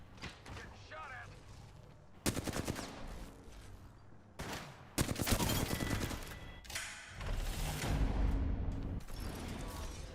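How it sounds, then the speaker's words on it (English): Gunfire from the video game Apex Legends crackles in loud bursts, with sharp volleys at several points and rapid fusillades near the middle and end, under an ongoing layer of game sound. "Getting shot at."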